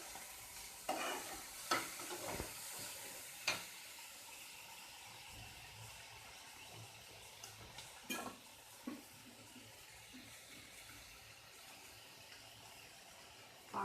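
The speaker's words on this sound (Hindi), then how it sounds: "इस स्पून से मैं 1 स्पून बीन्स डाली हूँ। इसे हल्का हल्का फ्राई कर लेती हूँ।" A spoonful of beans fries lightly in a pan for a momo filling, giving a faint, quiet sizzle with a few sharp scraping knocks from stirring, clustered early and again near the end.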